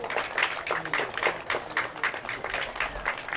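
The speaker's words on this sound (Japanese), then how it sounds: "ご来場の皆さん、両チームの選手に温かい拍手をお送りください。" Spectators at a Japanese American football game applaud both teams after the final whistle, steady moderate clapping from a stadium crowd with a faint murmur beneath.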